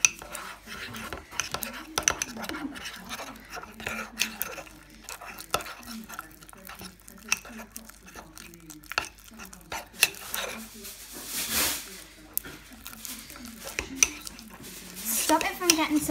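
A slime mixture is stirred in a bowl, producing irregular scraping, tapping and clinking of utensil against bowl, with wet squelching and louder bursts toward the end.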